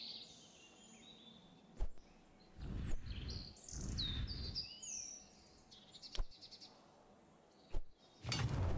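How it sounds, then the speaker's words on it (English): Birds chirp and trill in the video game Rise of the Slime, with bright scattered calls and whistles over tranquil background music, broken by a few sharp clacks and low thumps. "This music is so tranquil. Just bird sounds."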